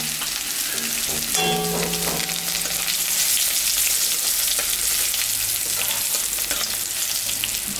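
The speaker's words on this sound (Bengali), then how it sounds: "মাছ ভাজা তেলের উপরে আমি রসুন সম্বরা দিলাম" Garlic and black cumin hit leftover fish-frying oil in a pan, giving a loud continuous sizzle and crackle with occasional stirring scrapes, close up and without talk.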